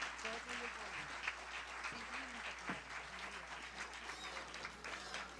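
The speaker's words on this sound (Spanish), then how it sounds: "Un aplauso para ella, Paola." An audience at a general assembly applauds to welcome a speaker to the stage. The clapping is faint and distant, with voices talking over and around it.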